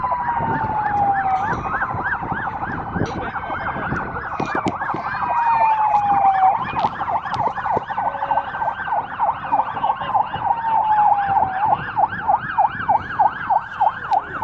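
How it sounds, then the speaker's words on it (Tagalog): A Saudi Arabian fire truck siren wails close by, its rising and falling tone cycling steadily, then switching to a faster pulsing yelp near the end, over road noise with no talking. "Fire truck."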